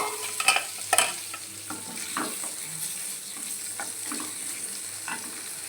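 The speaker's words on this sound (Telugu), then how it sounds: "నెయ్యిలోన ఈ కొబ్బరి ముక్కలు మొత్తం బాగా వేపేసి" Coconut pieces frying in ghee for a rice-and-milk paramannam, a steady close sizzle under a couple of stirring scrapes near the start, with no voices.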